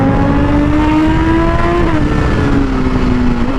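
A 2019 Honda CBR1000RR SP motorcycle engine revs loud and close, its tone climbing steadily then dipping briefly before holding high, with no speech.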